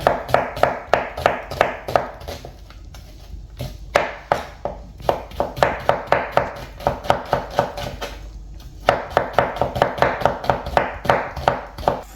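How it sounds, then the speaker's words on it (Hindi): A knife chops rhythmically through tomatoes and chicken on a board, producing a rapid series of loud, sharp taps with short pauses between runs. "तो इसको मैं स्लाइस कर लूँगा।"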